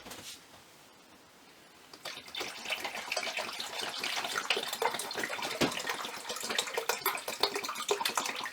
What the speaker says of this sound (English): So we're putting the last of 4 liters of tap water in this